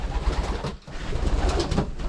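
Racing pigeons coo continuously close by, several birds layered in low rolling calls inside a loft, with faint rustling.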